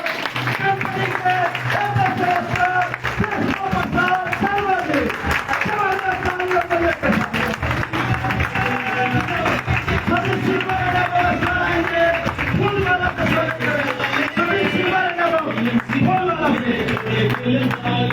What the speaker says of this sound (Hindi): और ये ऐसी ताली है